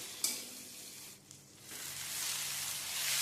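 Chopped tomatoes sizzle and fry in a pan with spices, a steady close hiss of oil that swells and fades slightly as the mixture is stirred, with no voices.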